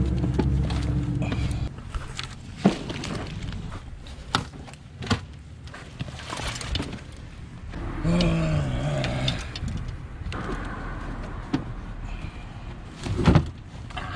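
A small pump inflates a flat car tire at the roadside, its motor droning steadily and close for several seconds, with the pitch wavering and a few bumps and knocks along the way.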